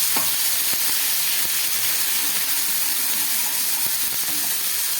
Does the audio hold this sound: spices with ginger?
yes